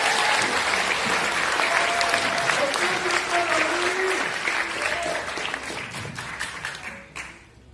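An audience at a Democratic Party reform debate meeting in Seoul claps steadily and loudly, with brief voices over it, then fades out toward the end.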